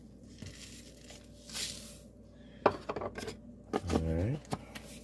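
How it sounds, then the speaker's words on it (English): Quaker quick oats go into a mixing bowl with rustling and crinkling from the packaging, soft pours and light scrapes, then a few sharp clinks and knocks of utensils on the bowl, all close and fairly quiet. "We're going to put those in a mixing bowl"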